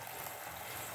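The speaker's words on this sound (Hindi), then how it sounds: "और अब हम उसमें 1 गिलास पानी" Glass of water poured into cluster bean sabzi in a cooking pot, a brief steady rushing splash filling the moment, with no talking.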